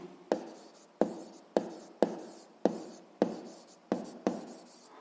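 A pen writes down an answer to a school physics exercise in eight short, evenly spaced scratching strokes, each starting sharply and trailing off, close and clear with no voices.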